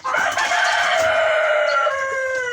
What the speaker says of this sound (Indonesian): Kokok terus.